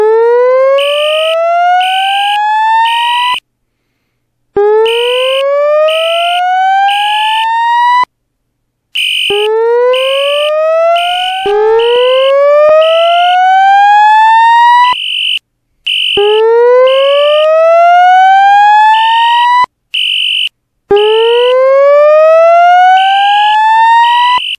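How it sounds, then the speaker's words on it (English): A fire alarm sounds inside a Roblox building, a loud rising whoop siren followed by rapid electronic beeps, repeating in regular cycles with short silent gaps between them. "There has been a fire alarm reported in the building."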